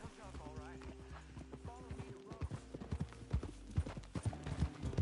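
Horse hooves clop in a steady rhythm in the video game Red Dead Redemption 2 while people talk, with a short whinny near the start.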